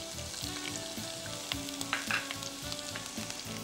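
Chopped green and red bell peppers sautéing in a hot pan, a loud, close, continuous sizzle with rhythmic stirring scrapes and small crackles, no voices.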